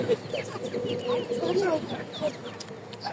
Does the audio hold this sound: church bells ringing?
no